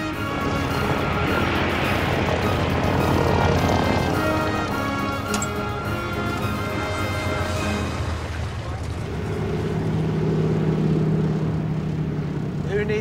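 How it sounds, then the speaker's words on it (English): A seaplane drones steadily overhead in Australia, its engine hum loud and continuous for the whole stretch, shifting slightly in pitch as it passes, with no talk. "Who needs runways when you've got a seaplane?"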